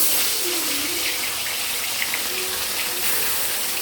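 Bata fish fry in hot oil for a mustard and poppy seed dish, giving a loud, steady, close sizzle that hisses without pause throughout.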